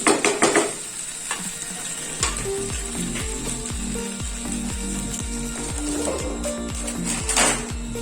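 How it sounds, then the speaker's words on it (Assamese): Pieces of chicken for a restaurant-style chicken dry fry fry in oil in a home kitchen, giving a steady low sizzle. Stirring scrapes and clinks come through close by, with a few sharper bangs and no talk. "চিকেনখিনি অলপ অলপ ভাজ খাইছে, তেলটো এৰিছে।"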